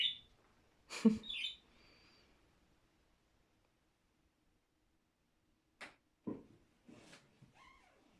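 Pet birds perched on a trainer's arms give a few short, sharp chirps in near silence, close and clear, with a long quiet gap between bursts.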